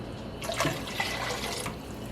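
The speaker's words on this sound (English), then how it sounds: "I'm going to add about 2 cups of water" About two cups of water poured into a pot of bone broth for keto chicken and dumplings, a short splashing pour of roughly a second, fairly soft, with no talking.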